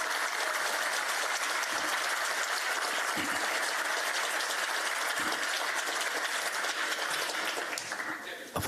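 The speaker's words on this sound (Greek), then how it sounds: "Αφού ξεκινήσαμε με χειροκροτήματα" Dense, steady applause from an audience at a music school event in Volos marking the International Day of Persons with Disabilities, sustained throughout and tapering slightly at the end.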